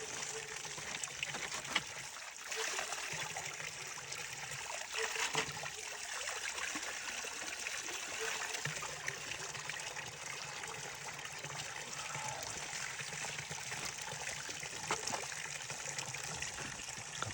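Water trickles steadily from a village spring in Boboshticë, a soft continuous flow heard close and alone throughout.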